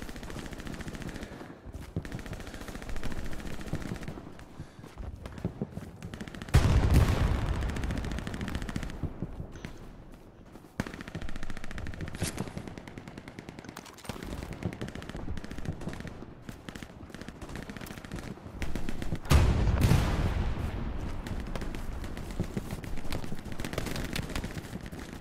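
Gunfire aimed at the player in the World War II shooter Hell Let Loose, with repeated machine-gun bursts and single shots, some close and loud, others more distant, continuing throughout with no talk.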